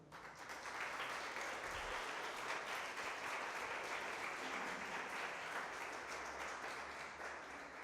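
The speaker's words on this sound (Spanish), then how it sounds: "Denle un aplauso al Señor." Sustained applause from a church congregation at a Spanish-language Sunday service, steady and even across the whole stretch, a broad wash of many hands clapping with no talking.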